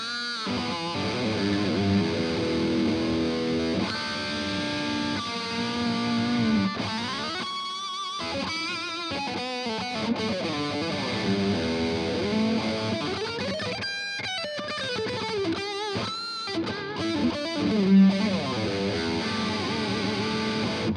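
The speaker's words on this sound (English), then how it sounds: "we've heard the guitar in a lot of different tones on its own" A Jackson Pro Plus Soloist SLA3 electric guitar plays through heavy distortion and effects, a sustained, saturated riff with chord stabs and lead lines running steadily alone for the whole stretch.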